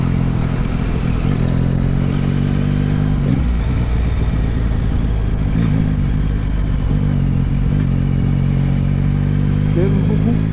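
A Yamaha MT-09 three-cylinder motorcycle engine rumbles steadily and loudly at close range throughout, with small shifts in revs, and a voice is heard over it.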